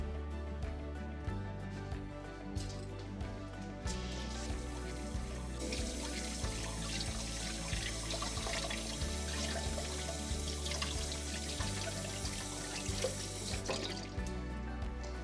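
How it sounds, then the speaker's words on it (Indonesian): Hands are washed under a running kitchen tap during home cooking. A quiet, steady stream of water runs throughout beneath louder background music. "Aku cuci tangan dulu."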